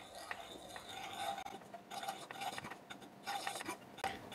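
Flour being stirred into melted butter in a pan, heard as a faint, quiet series of metal utensil scrapes and light clinks against the cookware, with no talking over it.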